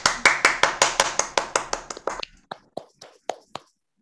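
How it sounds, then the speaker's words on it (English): Rhythmic clapping at a club chapter meeting as a speaker is welcomed to the podium, starting as a steady, fairly close series of claps and thinning to a few scattered, fading claps. "Give her a round of applause, guys."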